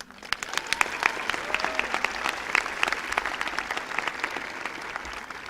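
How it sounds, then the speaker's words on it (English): Sustained applause from a large audience at the 2018 Waynesville High School graduation ceremony, a dense, steady wash of clapping heard from a distance in a big hall. "Let's give them a round of applause."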